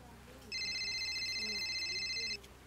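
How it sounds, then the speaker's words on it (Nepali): An electronic telephone ring tone sounds indoors in a Nepali drama scene, a steady warbling ring lasting nearly two seconds, loud and close over quiet room background. "कसले फोन गर फेरि?"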